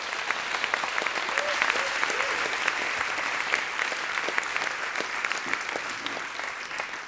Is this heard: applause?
yes